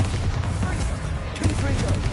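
Bombarda blasting spell in the video game Hogwarts Legacy, dense booming bursts over a constant heavy rumble of battle effects and music, loud and close throughout.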